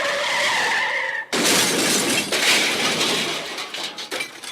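A car skids with a long, loud tire screech, then crashes abruptly with shattering glass and scattered debris settling afterward, a sound effect from a TV commercial.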